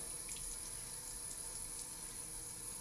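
A steady, faint hiss of running water from a tap flows continuously as a paintbrush is rinsed, with a few small splashes and no voices.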